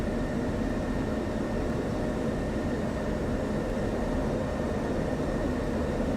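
A jet aircraft rolling for takeoff on a runway in the DCS World flight simulator during a Syria campaign mission, a steady, even engine roar with broadband rumble holding at a constant level throughout.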